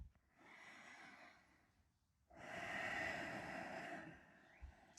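Slow, deep breathing during a yoga session: a long soft inhale, a pause, then a fuller, louder breath through the nose, close and alone.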